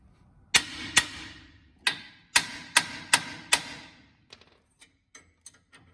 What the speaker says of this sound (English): By tapping that, that frees that up.